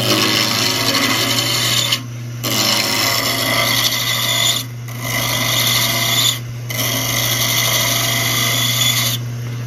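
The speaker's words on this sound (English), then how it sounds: "I'm using a spindle rough and gouge to get down the round." Spindle roughing gouge cutting a spinning wooden blank on a lathe, a loud continuous rasping scrape broken by three brief pauses as the tool lifts away, over a steady motor hum.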